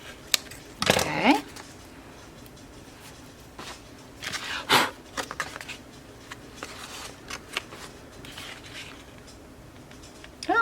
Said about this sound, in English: sorry you had to listen to me blow on my craft project